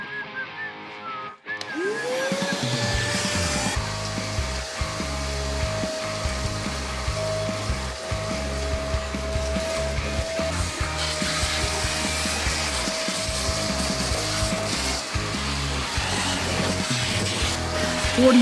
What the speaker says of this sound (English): let's vacuum this thing out